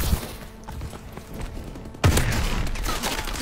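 Gunfire from a weapon in a first-person shooter video game, with bursts of close shots and a loud burst starting partway through, over game background noise.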